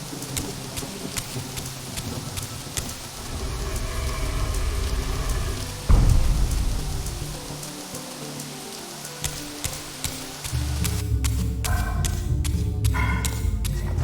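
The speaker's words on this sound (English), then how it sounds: "It's really rainy 100 years in the future." Rainfall keeps up a constant hiss in the game Soul Reaver 2, broken by a heavy thud near the middle and sharp clattering bursts toward the end.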